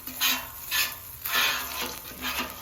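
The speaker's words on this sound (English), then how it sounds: "And just baste our dang pork chops with them." Pork chops on a Camp Chef flat top griddle are basted with butter and rosemary, sending short repeated bursts of loud sizzling between quieter moments.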